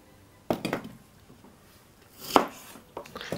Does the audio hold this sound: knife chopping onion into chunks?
yes